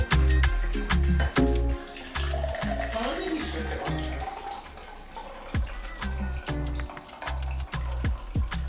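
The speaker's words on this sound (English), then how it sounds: "And now I'm gonna pour it out" A cosmopolitan cocktail pours and splashes into a glass close by, a steady trickle with gurgling spurts and dripping, a voice faintly under it.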